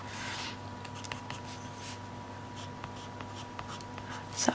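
Colouring pencil scratching steady lines across paper during a Christmas tree colouring session, a continuous soft rasp with light strokes, close and alone.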